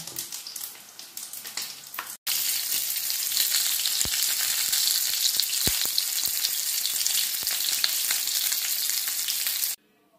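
Rice balls coated in egg and breadcrumbs fry in hot oil, giving a steady, close sizzle with scattered pops and crackles that runs on without a break for most of the stretch, then cuts off at the end.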